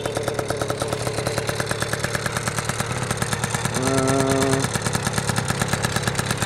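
A 1980 Honda NC50 scooter with a Tecnigas exhaust idles while still cold, a close, steady buzzing two-stroke putter with a fast even pulse and a brief slight rise in revs midway.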